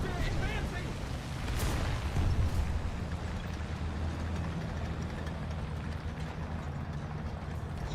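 Artillery fire in a video game: a loud booming burst around two seconds in, followed by a steady low rumble of continued bombardment and battle noise, with a voice speaking over it.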